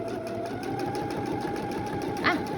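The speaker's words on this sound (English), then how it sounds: "we're going to sew all the way around" A sewing machine runs steadily, stitching a seam around a fabric face mask, a close, even whir with a rapid rhythmic stitch pulse and no talk.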